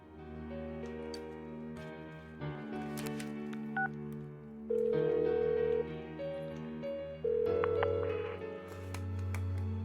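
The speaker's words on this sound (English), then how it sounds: "Give her another call." A phone ring and dialing tones sound in the video game Persona 4 Golden, clear electronic beeps and tones repeating over a soft game music background.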